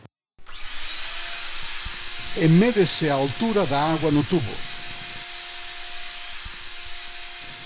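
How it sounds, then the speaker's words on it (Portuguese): A vacuum cleaner hooked up to a glass water tube runs with a steady, loud whir from start to finish, while someone speaks over it in the middle. "O aspirador de pó é conectado a um tubo de vidro"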